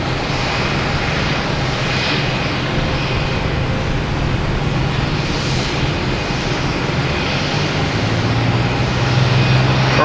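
Airliner engines on the takeoff roll at Boston Logan Airport: a loud, steady jet roar that fills the whole stretch without letup, with no voices over it.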